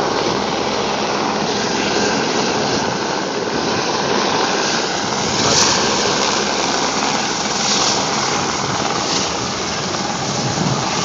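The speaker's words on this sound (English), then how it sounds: "Choppers up river." Steady broadband rotor and engine roar of a firefighting helicopter flying upriver, loud and continuous with a slight swell midway, no voices.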